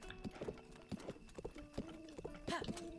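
Hooves of a white horse clip-clopping in The Legend of Zelda: Breath of the Wild, irregular quick thuds at close range mixed with game music notes, with someone talking over them.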